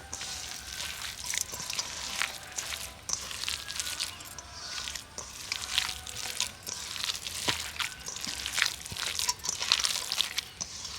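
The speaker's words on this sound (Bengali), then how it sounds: "ভালো করে মেশাবো" Mango pieces mixed by hand with mustard for homemade aam kasundi, giving a steady run of wet squishing and soft crunchy squelches in an uneven rhythm, close and moderately loud, with no talking.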